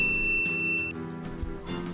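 A bright notification bell rings once as a clear sustained tone near the start, followed by softer chiming tones over a light musical bed.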